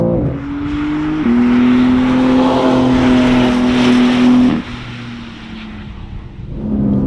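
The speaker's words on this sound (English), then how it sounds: "It accelerates so incredibly well out of the corners" A BMW M3 CS G80 accelerates hard and loud, its engine note climbing steadily through a gear before a quick shift, then holding high before easing off and picking up again near the end.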